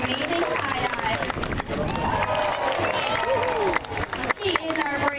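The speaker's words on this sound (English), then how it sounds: "She was just holding out for some more applause." Audience at a marine park sea lion show applauding after a high dive, a broad wash of clapping and cheering beneath an announcer talking over a loudspeaker.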